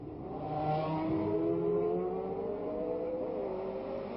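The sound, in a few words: 1967 Formula 1 race cars at Monaco chicane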